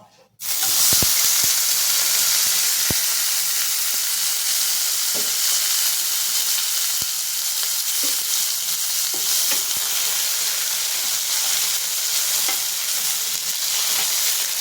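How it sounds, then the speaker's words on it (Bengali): Raw mango pieces dropped into hot oil in a wok, a sudden loud burst of sizzling that settles into a steady, dense hiss with occasional faint ticks and pops, no talking. "আমটা একটু ভাজতে হবে।"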